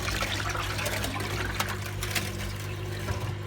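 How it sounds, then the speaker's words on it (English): Water draining and trickling out of a Bush washing machine after its main wash, a steady faint gurgling flow under the low hum of the pump, no talking. "So it's draining out after the main wash."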